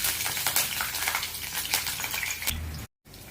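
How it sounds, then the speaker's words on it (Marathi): Green chillies frying in hot oil in a kadhai, a steady close sizzle with crackling pops that cuts off near the end, followed by a brief gap of silence. "आपलं तेल हे तापलेलं आहे. त्यामध्ये आपण मिरच्या टाकून घेऊया."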